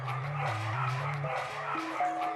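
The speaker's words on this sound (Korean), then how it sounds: "TV에서 강아지 소리가 나자 그쪽을 봤다가도" A dog barks and whines from a television in a home, producing short, tonal yelps that rise and fall in a steady stream at moderate loudness.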